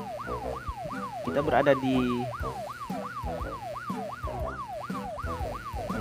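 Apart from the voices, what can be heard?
ambulance siren in Minecraft video game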